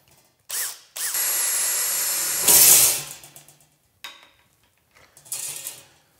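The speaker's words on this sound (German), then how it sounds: "Ich nehme jetzt einfach mal hier das Blech und bohre da ein Loch rein" A handheld drill bores through sheet metal in a workshop, a loud sustained whirring grind that rises sharply as the bit bites, followed by short separate bursts of drilling with brief pauses between them.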